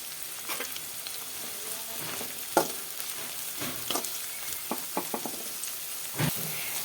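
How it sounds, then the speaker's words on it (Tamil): Onions with curry leaves sauté in a pan for egg kulambu, giving a soft steady sizzle broken by scattered clinks and scraping stirs, fairly faint and close. "வெங்காயம் வந்து வதங்கி வரட்டும்"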